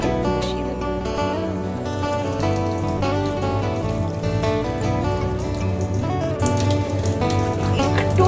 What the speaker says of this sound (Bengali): এবার আমি এটা জল ঢেলে দেবো, পরিমাণ মতো জল দেবো